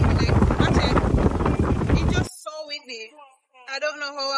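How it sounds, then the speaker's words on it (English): Heavy coastal wind at a beach in Portmore, Jamaica buffets the microphone with a loud roar for a couple of seconds, then cuts out as someone talks. "It's so fucking windy out here."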